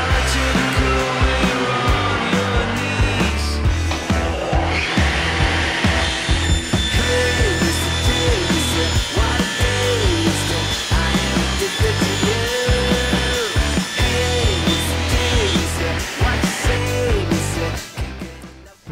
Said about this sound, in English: I cut it on the table saw.